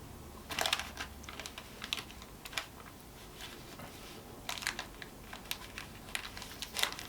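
A knife chopping bacon into chunks on a board for a bacon, mushroom and cheese omelette, giving quiet, close, irregular clicking taps in small clusters over a faint room background, with no talking.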